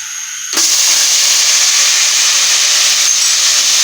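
Ground onion paste drops into hot oil and frying spices for a chana curry, setting off a sudden loud sizzle. It begins abruptly after a quiet moment, then holds as a strong, steady hiss, close up, with no talking.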